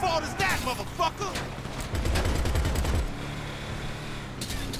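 Gunfire during a GTA 5 Online shootout: rapid automatic bursts and loud close shots with dense rattling stretches, while voices talk over the noise.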